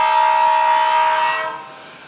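A Kato N gauge DCC model locomotive on a looped layout gives a steady tonal whine or horn-like sound that holds briefly and then fades, with no talking.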